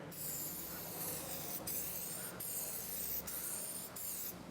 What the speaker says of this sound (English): Now I like to spray it on kind of thick